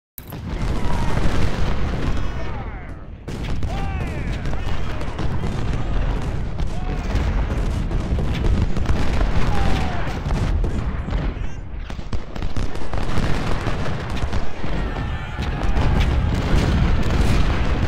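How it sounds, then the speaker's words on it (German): Repeated booming cannon blasts and artillery explosions fire in rapid, irregular succession in Ultimate General: Civil War at Saunders Farm, loud and dense, with game-like battle noise throughout. "wenn da die Kanonen mal treffen"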